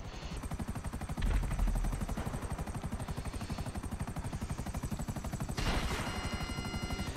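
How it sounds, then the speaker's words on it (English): A GTA V video game helicopter thrums with a steady, loud rotor chop throughout, its rhythmic thumping swelling in two brief bursts, with no talk over it. "By memory, there's a helicopter up here."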